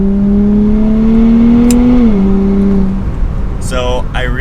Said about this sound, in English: It keeps accelerating all the way up to red line, and it doesn't just spin the tires down low.